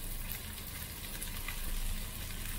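Onion sautéing in a pan for homemade pastel filling, a steady soft sizzle and crackle, fairly quiet and continuous.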